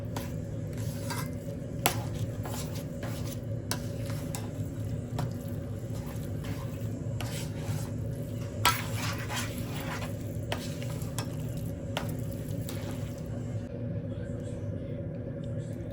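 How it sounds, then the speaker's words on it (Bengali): Chhana is kneaded by hand with powdered milk in a bowl for sandesh, producing steady soft squishing and stirring noises with scattered light clicks against the dish, while a voice talks quietly underneath. "সব কিছু একসাথে করে এখন আমি মেখে নেব একটু"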